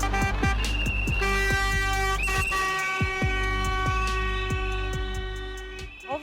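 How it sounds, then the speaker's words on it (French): Whistles and car horns sound together in a residential street, with sustained tonal horn blasts layered over repeated sharp whistle bursts, loud and continuous throughout. "un concert de sifflets et de klaxons."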